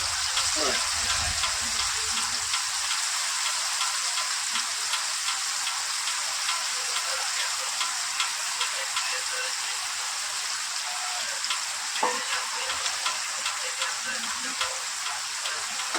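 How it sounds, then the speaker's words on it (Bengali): Fish, likely prawns, frying in hot oil for a cucumber and prawn curry, giving a steady dense sizzle with scattered crackling pops throughout, close and fairly loud with no talk. "এবার আমি তেলে মাছটা দিয়ে দেবো।"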